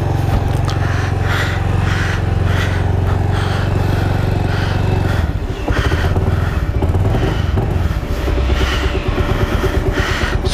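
A Bajaj Avenger 220 cruiser motorcycle engine runs steadily at close range, a loud continuous drone with a slight shift in pitch partway through, and no talking over it.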